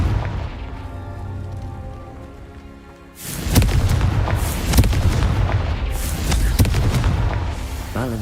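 A Confringo fire spell in Hogwarts Legacy bursts into a deep, booming explosion with crackling rumble, following a quieter tonal stretch and continuing with further loud, irregular blasts.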